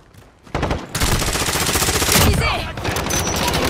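MP5 submachine gun fire in the video game Warzone: loud, sustained rapid automatic bursts that start abruptly and continue densely, with overlapping in-game gunfire and impact noise throughout.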